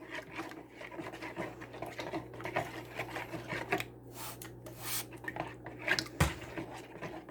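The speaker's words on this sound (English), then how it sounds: "So we're going to continuously mix it." A utensil stirs melted melt-and-pour soap base in a container as it cools, giving quiet irregular scrapes, taps and rubbing with a faint steady hum underneath and no voices.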